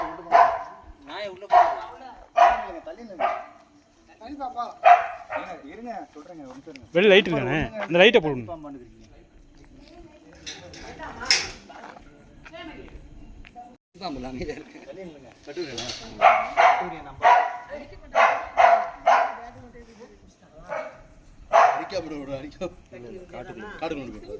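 A dog barks in short repeated bursts, loud and close, with people talking and calling out between the barks.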